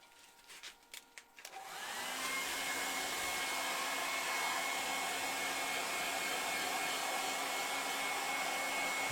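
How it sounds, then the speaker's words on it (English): A hair dryer blows steadily to dry a freshly finished wood-turned piece, starting after a few faint clicks and handling noises, then holding a constant loud whooshing whine with a high motor tone. "we'll use the air dryer trick to dry it off."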